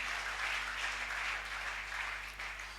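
A church congregation claps and cheers in acclaim of the Lord, a broad continuous wash of applause at moderate distance with a steady low hum beneath.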